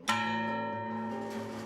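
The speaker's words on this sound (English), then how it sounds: "For hundreds of years, every hour on the hour, the town bell rings." The centuries-old town clock bell of Comayagua, Honduras, rings out in a single sharp strike whose rich, metallic overtones hang and slowly decay, heard at a distance with no voices.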